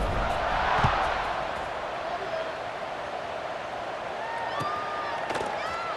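Football stadium crowd at a college game, Southern versus Hawaii, just before a kickoff: a broad steady roar of many voices with whistles and scattered shouts, while a commentator talks over it.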